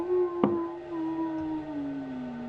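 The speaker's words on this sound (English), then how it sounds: "Jackals howl." A jackal howls in a single long, steady wavering tone that slowly falls in pitch, fairly close and alone, with a brief sharp click near the start.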